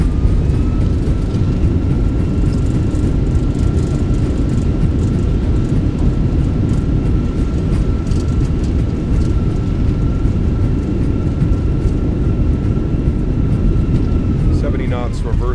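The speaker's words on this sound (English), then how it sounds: "Reversers are out." Thrust reversers roar on a Fenix A321 landing at Dallas-Fort Worth in Microsoft Flight Simulator 2024, a loud sustained engine roar with a steady whine that holds and then eases near the end.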